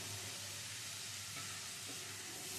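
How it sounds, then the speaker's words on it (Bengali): A spice paste of cumin, turmeric and salt, thinned with a little water, sautés in a pan on low to medium heat for a mustard fish curry, giving a steady, close, broadband sizzle with faint stirring and no talking. "2-3 মিনিট ধরে লো টু মিডিয়াম স্টিমে কষিয়ে নেব।"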